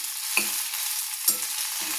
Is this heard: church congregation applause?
no